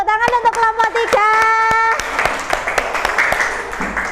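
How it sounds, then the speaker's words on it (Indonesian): A classroom of students claps for a presenting group, sharp scattered hand claps at first with voices over them, then building into fuller, denser applause. "Tepuk tangan untuk kelompok 3."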